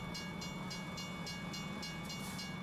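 A train in a racing video game rolls past at Hickory Motor Speedway with a steady rumble and rhythmic clicking of wheels over rail joints, evenly spaced and continuous.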